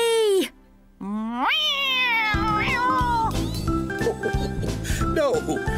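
A cartoon cat meows repeatedly in long, rising and falling cries, fairly loud and close, with a brief quiet gap near the start.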